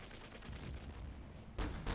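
Plane gunfire in the video game Panzer Rush, with a dense, rapid rattle running steadily, then two loud, harsh bursts near the end.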